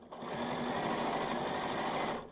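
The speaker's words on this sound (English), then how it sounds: "I'm stitching right on the edge of that fold of the binding." A sewing machine stitches binding onto a quilt in a short, fast, steady burst of rapid mechanical whirring that starts and stops cleanly, close and alone.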